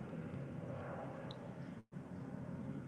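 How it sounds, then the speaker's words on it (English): An airplane passes overhead as a steady, broad engine rumble at a distance, briefly cut off by a short dropout. "sorry about the plane"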